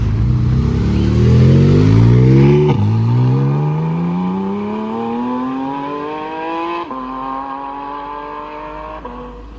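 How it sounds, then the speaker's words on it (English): A GT4 sports car leaving a cars-and-coffee supercar run accelerates hard through several rising gear pulls with brief shift breaks, its engine note loud and close, no talk. "I've got this GT4 here that's about to leave"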